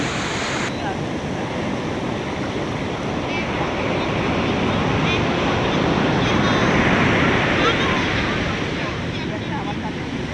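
Sea waves wash continuously onto Puri beach at sunrise, a dense, loud roar of surf with wind buffeting the microphone throughout.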